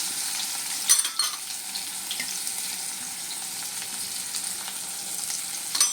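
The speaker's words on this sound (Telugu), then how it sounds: "ఉల్లిపాయ మాత్రం బాగా వేగాలండి. చిన్న గోల్డెన్ బ్రౌన్లోకి రావాలన్నమాట." Finely chopped onion and green chilli frying in a pan for a flattened-rice upma, giving a soft, even sizzle with a couple of light clinks of a utensil, close by and without speech.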